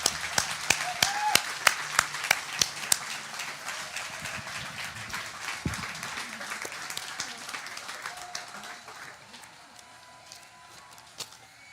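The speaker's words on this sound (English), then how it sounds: "Y'all give that man a round of applause" A church audience claps with scattered, uneven hand claps, fairly close and moderately loud, thinning out toward the end, with faint voices underneath.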